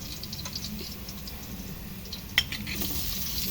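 Onions start frying in a pan for duck and chicken adobo, a soft, steady sizzle with light patter and a sharp utensil clink partway through.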